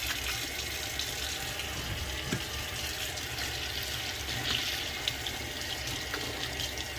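A kitchen tap runs steadily while hands are wet under it during preparation of catfish nuggets, producing a constant close splashing stream with no pauses and no talking.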